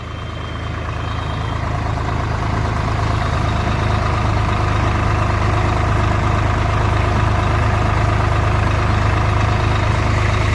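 A farm tractor's engine runs close by with a loud, steady low droning rumble that holds constant without revving for the whole stretch.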